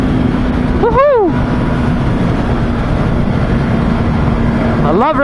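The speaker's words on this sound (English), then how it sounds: "I love revving this bike" A Honda CB650R motorcycle engine drones steadily, with two sharp revs rising and falling in pitch, one early and one at the end.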